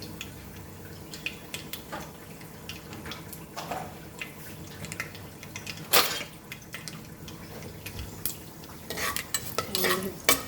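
Spices and a bay leaf fry in hot oil while a spoon stirs them, scraping against the pot with scattered clinks over a soft, continuous sizzle.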